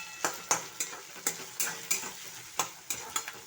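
Spiced onion-garlic paste being sautéed and scraped in a hot pan for green and yellow mung dal tadka, with a steady sizzle broken by regular spatula strokes about every third of a second, close and clear with no talk.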